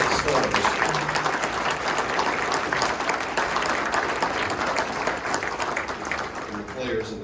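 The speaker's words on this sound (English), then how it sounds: "Let's give a round of applause to the teams that are here that have won" Sustained applause from a large audience at a high school basketball state finals lunch, steady and dense clapping that carries through the whole stretch with crowd noise underneath.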